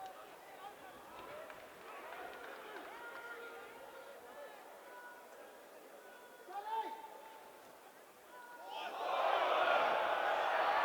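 A rugby league crowd at an Oldham versus London match murmurs in the distance under commentary, then swells into a loud roar of protest over the final seconds.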